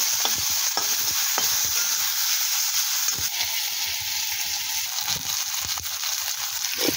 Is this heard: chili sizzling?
yes